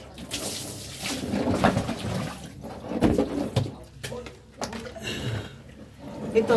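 Laundry is rinsed by hand in a basin, water sloshing and splashing in uneven bursts as clothes are lifted and squeezed, close and fairly loud, with occasional talking alongside.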